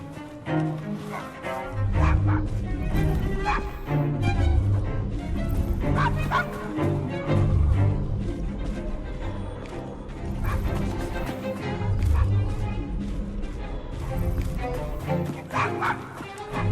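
In Assassin's Creed Syndicate, a dog barks repeatedly in bursts amid busy game sound and music, with yips and whimpers mixed in and occasional crashes.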